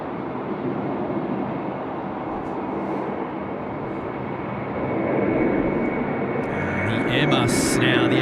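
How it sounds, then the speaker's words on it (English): An Airbus A330 rolling down runway 16 right at Sydney Airport, a broad steady engine roar heard from a distance that swells louder midway, with a voice talking over it near the end. "the Airbus 330 I think is rolling 16 right"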